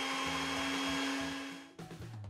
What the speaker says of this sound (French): Après, on allume le mixeur